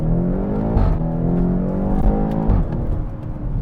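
A BMW X5M F85 SUV accelerating hard in Sport Plus mode, its engine heard from inside as a loud, deep, rising roar, with brief dips at gear shifts before climbing again, steady and close with no talk.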